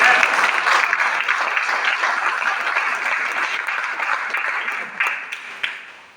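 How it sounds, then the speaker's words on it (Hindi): Audience at an open business meeting in Bhagalpur bursts into loud, sustained applause, a dense wash of many hands clapping that slowly thins toward the end with a few sharper individual claps. "ताली बजाएं।"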